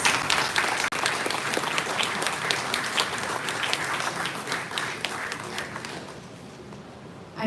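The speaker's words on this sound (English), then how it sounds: "Please give a huge round of applause." Audience at a school awards event applauds, a dense wash of clapping from many hands that stays loud for several seconds before thinning out near the end.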